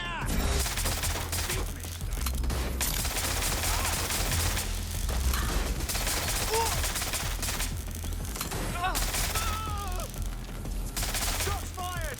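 Dense, sustained gunfire from a firefight in the video game Watch Dogs: Legion, with rapid overlapping shots rattling steadily for about twelve seconds and brief shouted voices breaking through now and then.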